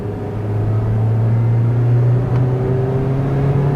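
A 2012 Honda Civic accelerating from inside the cabin, the engine hum rising steadily in pitch as it builds speed, loud and close with no talk.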